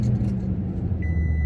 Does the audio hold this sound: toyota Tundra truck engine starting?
yes